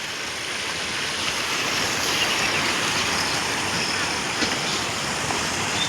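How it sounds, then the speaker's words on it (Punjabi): Floodwater rushes past bridges in flooded villages near Dera Baba Nanak, a loud, steady, broadband roar of churning water that holds without a break throughout. "ਪੁਲਾਂ ਦੇ ਨਾਲ ਖਹਿਵਾ ਜਾਂਦਾ ਪਾਣੀ"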